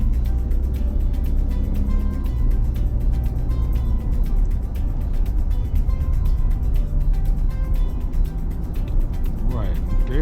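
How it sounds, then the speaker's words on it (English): A 2015 Ford F150 EcoBoost Crew Cab drives along the road, its engine a steady low drone heard from inside the cab with constant road and tire rumble, loud and unbroken. "I want to let y'all hear the sounds, the engine, all that good stuff"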